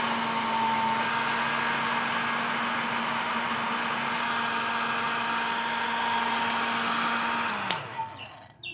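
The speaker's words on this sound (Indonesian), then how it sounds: "hair dryer jimat lama ini saya pakai terus untuk membersihkan handphone" An old hair dryer blows steadily to dry a water-damaged Samsung A32 phone, a constant whirring motor hum with airy noise that holds for several seconds, then winds down and cuts off near the end.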